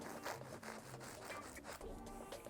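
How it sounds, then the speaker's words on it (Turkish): A knife saws through the middle of bread loaves, making soft, faint rasping strokes in a steady back-and-forth rhythm, close by and with no talking. "Burada ekmekleri orta kesiyorum."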